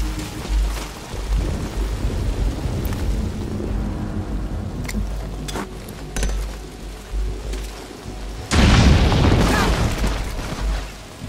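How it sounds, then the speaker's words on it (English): An explosion in the video game Metal Gear Solid V, a deep rumbling boom that erupts late and loud over ongoing low in-game ambience and scattered smaller impacts. "Heard an explosion."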